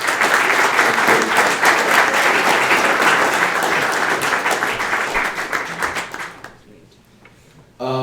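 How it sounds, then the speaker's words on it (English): An audience at a ReactJS developer meetup gives a presenter a round of applause, a dense, loud wash of many clapping hands lasting about six seconds before breaking off into near silence. "let's give her a round of applause"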